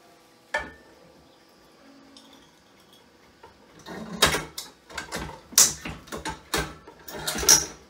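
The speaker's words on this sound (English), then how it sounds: "You can put the cap into the capper, grab yourself a bottle, drop that, crank down, voila." A bottle capper crimps a cap onto a glass homebrew bottle. Faint clinks and mechanical rattles give way to a burst of loud metallic clanks, clicks and glassy knocks close by.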